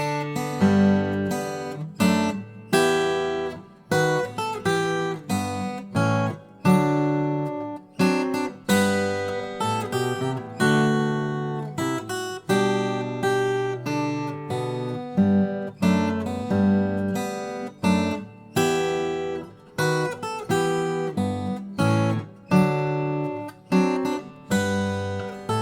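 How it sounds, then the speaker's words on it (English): Star Spangled Banner melody played on guitar, a single line of clear plucked notes at a steady, moderate pace, each note ringing briefly before the next, heard alone without talk. "So the Star Spangled Banner should actually sound like this."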